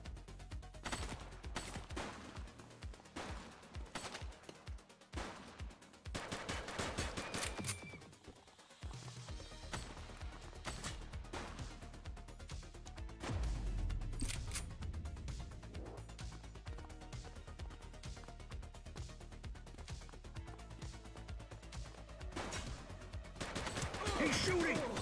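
Gunfire rattles through a police shootout in the video game The Precinct, with dense repeated bursts and sharp cracks over a busy, loud backdrop of game noise and effects.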